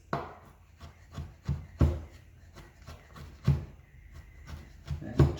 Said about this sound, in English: Just chop them roughly.